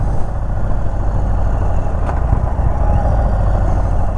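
A 2021 Indian Chief Bobber 116 Stage 2 motorcycle engine runs steadily and loudly up close, a dense low rumble with a percussive beat throughout.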